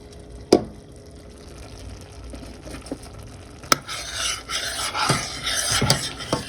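Cooking beans being mashed in a hot pot, soft wet scraping and squishing strokes with a few sharp clicks of the utensil, growing busier toward the end, close and without talk.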